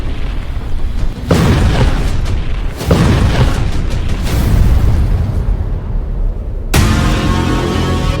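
A Russian navy submarine is struck by a huge explosion at the Novorossiysk naval base: three loud, deep booms in succession, each followed by a long rumbling roar, the last blast coming sharp and close near the end.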